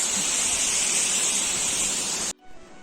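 Bhagsunag waterfall near Mcleodganj, a loud, steady roar of rushing water close by that stops abruptly near the end.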